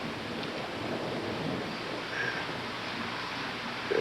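Steady rain pouring through a thunderstorm, a dense continuous wash of noise with a faint low rumble and no clear thunder crack, heard alone.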